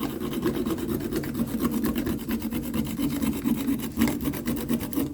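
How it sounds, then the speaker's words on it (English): Whole nutmeg rubbed on a small Jamaican nutmeg grater for sweet potato pudding, making a close, rhythmic rasping scrape of quick back-and-forth strokes heard alone. "I'm going to grate the nutmeg."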